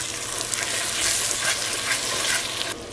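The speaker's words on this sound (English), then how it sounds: "Ketchup will deglaze the pan a little." Ketchup deglazing a hot pan, a dense hissing sizzle that swells and pulses, close and fairly loud, then drops off abruptly near the end, with no talk.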